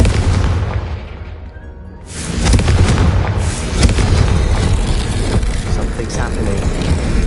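Confringo spell explosions in a Harry Potter video game, a loud booming blast followed by sustained rumbling, crackling impact noise.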